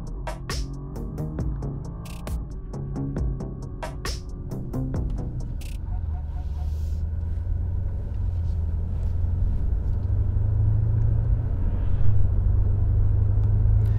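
BMW M8 Competition Gran Coupe (F93) accelerating hard from a launch-control start on an empty public road: a deep, steady engine rumble swells and holds loud, with faint clicks and shifts early on and no talk.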